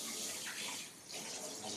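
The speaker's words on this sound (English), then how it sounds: "I'm just going to get some hot water in there." Hot water runs from a small tap into a home-brewing vessel for a pre-clean, a soft, steady gushing stream that dips briefly in the middle.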